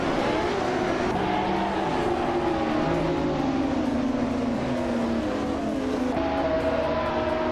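Engines in a racing video game, including a 1995 McLaren F1, roar together off the start line as a loud, continuous, layered drone with shifting pitches climbing through the gears, steady and unbroken throughout.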